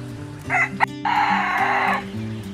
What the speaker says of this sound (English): This is my self-blue rooster, and he is king of the flock.